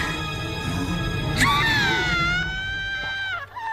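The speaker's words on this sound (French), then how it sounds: "Un hurlement." A high, wavering scream from a horror film rises sharply, then falls away over a few seconds against a murky, low background.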